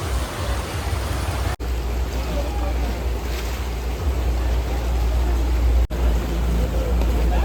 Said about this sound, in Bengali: বাবা জলের তো বিশাল স্রোত গো